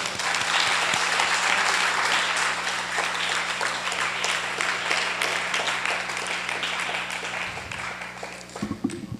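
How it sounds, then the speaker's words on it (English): Sustained crowd applause fills a morning program hall at a spiritual retreat after a speech, dense and steady throughout before thinning slightly near the end, with a low hum beneath. "Give another round of applause."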